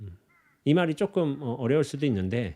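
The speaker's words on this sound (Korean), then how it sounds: "저 까마귀 울음소리가 분명히 존재하고 있고" A crow caws a few times faintly in the background at the start, then someone speaks over the rest and covers it.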